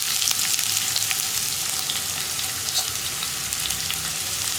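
Onions sizzle and fry in a pan for a potato green peas curry, a steady, fairly soft crackling hiss with small pops, and no talk over it.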